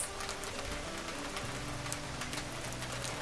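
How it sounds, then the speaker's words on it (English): Heavy rain lashes down steadily, a dense continuous hiss with scattered drop impacts, over soft background music with no voices. "The heavy rain was lashing against the windows of the neighboring houses."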